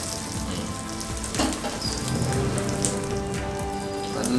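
Lake fish egg omelette sizzling in a pan after being flipped, a steady crackling fry with a soft scrape partway through, close and moderately quiet.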